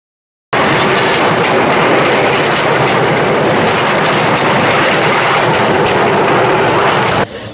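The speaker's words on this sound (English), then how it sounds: "We are taking a bamboo train" A bamboo train in Cambodia rumbles steadily along old rails with a dense, continuous clatter of wheels on track, loud and close throughout.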